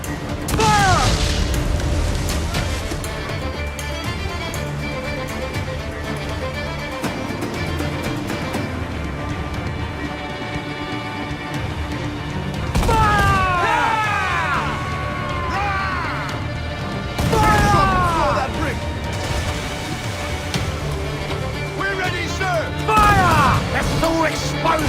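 Naval cannon fire in an Assassin's Creed 4 Black Flag sea battle: heavy broadside booms and crashing impacts in several bursts, mixed with game music and shouted voices throughout.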